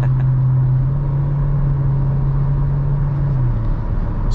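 A 2023 Hyundai Elantra with its 147-horsepower engine and IVT transmission while driving, a loud steady low engine drone and road rumble from inside the cabin, with a sustained tone that drops slightly near the end.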